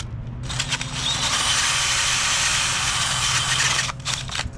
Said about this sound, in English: so I'm gonna drill a few more in this thing